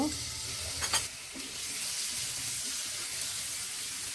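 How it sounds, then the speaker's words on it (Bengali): Marinated chicken pieces fry in soybean oil in a pan, giving a steady close sizzle with a couple of brief scraping stir sounds near the start and no talking. "একটা প্যানে সয়াবিন তেল দিয়ে তাতে মেখে রাখা মাংসগুলো দিয়ে দিব"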